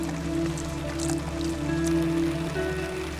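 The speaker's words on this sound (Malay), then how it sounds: "menunggu hujan ini untuk reda" Steady rain patters on a tent during an autumn cycling trip in Scotland, a soft, even wash of drops close by with no voices.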